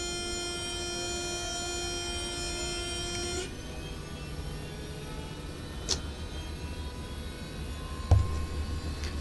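Engines of an Azurpoly C-160R aircraft in Flight Simulator 2024 starting up, a steady turbine whine with tonal hum that shifts partway through, punctuated by a few sharp clicks and a thump, moderately quiet and without talk.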